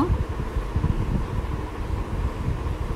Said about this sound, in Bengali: তো আমি এখন এটা ব্লেন্ড করে নিচ্ছি।